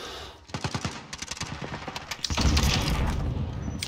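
Rapid automatic gunfire from a GRAU 5.56 rifle in Call of Duty Modern Warfare rattles off in quick bursts, then swells into a dense, loud barrage of shots and booms.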